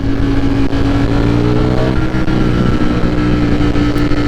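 Ducati V4 Streetfighter motorcycle engine running loud and steady throughout, a thick continuous drone with engine harmonics and slight rises in pitch as it revs.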